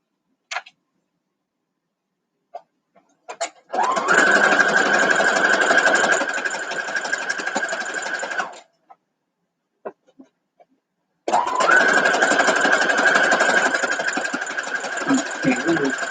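A sewing machine stitching a quilt block at a quarter-inch seam runs in two steady, even whirring stretches of about five seconds each, separated by a pause with faint clicks and handling, recorded close and clear with no talk over the stitching.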